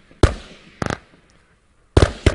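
Jordskælv consumer firework battery firing shots: three sharp loud bangs with ringing decays, spaced irregularly over a couple of seconds, with quiet gaps between.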